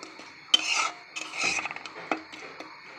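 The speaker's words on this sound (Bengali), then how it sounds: "লবণ, সামান্য লবণ দিয়ে এটা আমি বেশ কিছুক্ষণ নাড়াচাড়া করে" Spice paste of onion paste and powdered spices with a little salt being stirred and fried in a pan, giving scraping, rasping rubs of a spoon against the pan in irregular strokes, close and moderately loud.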